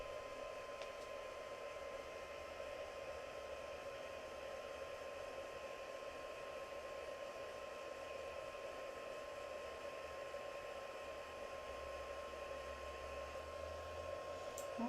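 A heat gun blows steadily while heat embossing gold powder on a handmade card, a constant, fairly faint whooshing hiss with a low hum that holds unchanged throughout.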